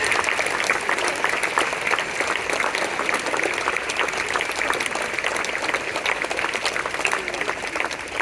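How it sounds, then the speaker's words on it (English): Steady, dense applause from a school crowd for competition winners, continuous and fairly loud throughout with no pauses. "A big round of applause for all the winners."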